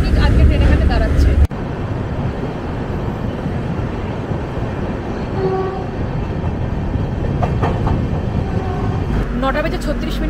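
The Puri–Howrah Shatabdi Express (12278) rumbles steadily, a broad continuous roar of the rolling train that runs nearly the whole stretch, with a sharp break near the start and brief higher tones scattered through.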